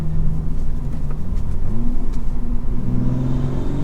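A manual Toyota Supra fitted with a Pedal Commander throttle controller accelerates, its engine droning loud and steady from inside the cabin as the revs climb, ease off and rise again.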